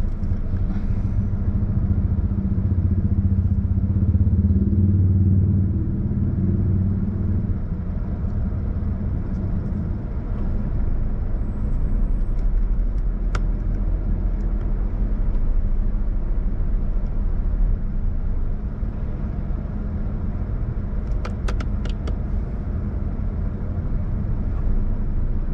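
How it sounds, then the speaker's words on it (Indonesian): Jammed city-street traffic of cars and motorcycles in Kampung Baru, Kuala Lumpur: a steady low rumble of idling and creeping engines throughout, with occasional faint clicks and a brief high squeak. "Traffic jam. Kan jam ya? Macet sedikit."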